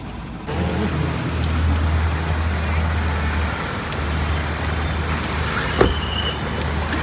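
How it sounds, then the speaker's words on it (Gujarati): Heavy downpour on a flooded street in Modasa town, a steady broadband wash of rain and water with low rumbling vehicle traffic passing through, and a brief sharp knock near the end. "ધોધમાર વરસાદ છે મોડાસા શહેરમાં"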